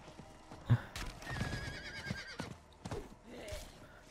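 A horse in the Diablo IV video game whinnies sharply, followed by soft hoofbeats and scattered game sound effects, fairly quiet overall.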